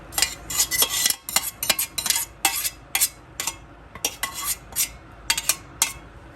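Spoon clanking and scraping against a pot as sautéed vegetables and beans are stirred into pigeon pea rice, a close, busy run of sharp metallic knocks and scrapes with no talking.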